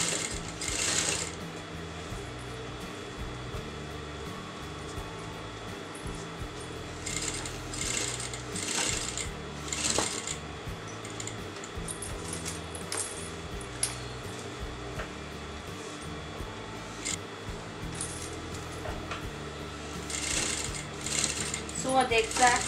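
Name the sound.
sewing canvas to fabric for a kameez neck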